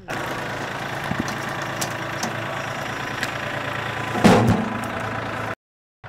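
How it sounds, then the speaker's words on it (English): An old tractor idling steadily at low revs outdoors, a continuous even rumble with a brief louder clatter near the end before it cuts to silence. "You notice his tractor never runs above idle."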